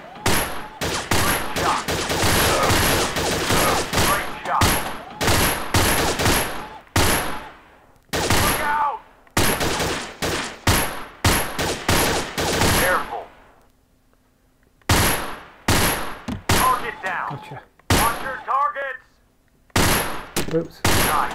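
Allied SMG 26-40 submachine gun in the Gun Club VR shooting game, firing in long, loud rapid-fire bursts separated by short gaps and brief quiet stretches, with faint electronic beeps.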